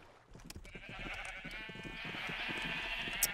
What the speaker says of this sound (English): My poor sheep, they're so crowded in here.